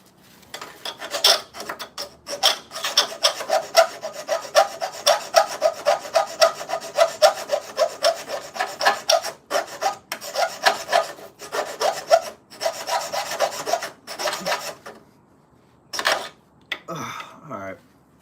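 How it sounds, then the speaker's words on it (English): A hand file scraping a section of metal on a truck in quick, rhythmic back-and-forth rasping strokes, close and fairly loud, with a few brief pauses and a short break near the end. "it looks like this section of metal, I want to file that down some more"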